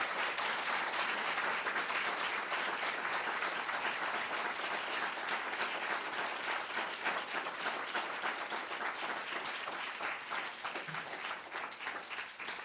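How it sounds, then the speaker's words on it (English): A seated audience at a celebration of women gives a long, steady round of dense applause that stays full for about twelve seconds before easing off slightly. "So I think we should give them a round of applause."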